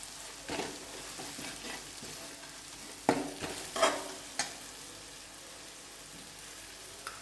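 Spices are stirred in a frying pan for chicken roast masala, giving a soft, continuous sizzle with a few sharp scrapes and clinks of the spoon against the pan. No one speaks.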